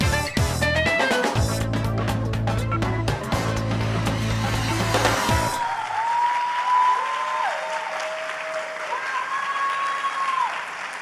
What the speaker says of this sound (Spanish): Y sobre todo con el aplauso de ustedes.